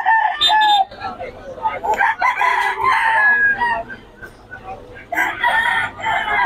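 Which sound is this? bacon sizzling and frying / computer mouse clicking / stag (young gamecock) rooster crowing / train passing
stag (young gamecock) rooster crowing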